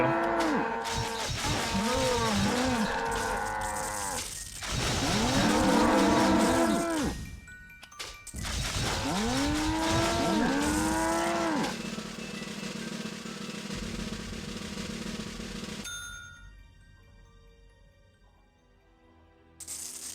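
Many overlapping cow moos crowd a scene in the video game TimeSplitters: Future Perfect, a dense chorus of loud lowing calls that breaks off, returns, then drops to faint clicks and tones.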